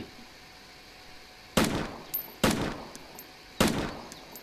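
Gunfire in the video game DayZ: three sharp, loud shots spaced about a second apart, each with a ringing tail, plus a fainter crack in between, against a quiet background.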